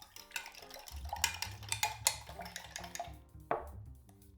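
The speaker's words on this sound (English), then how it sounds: "Add salt and pepper and give it a good mix." Eggs seasoned with salt and pepper are beaten in a jug, a close series of soft clinks and scraping taps of utensil against the vessel, uneven in rhythm.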